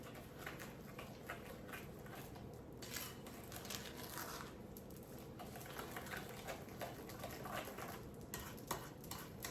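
Pumpkin, sugar and eggs being stirred together in a bowl for pumpkin bread, a steady close scraping and swishing that runs on with no pauses.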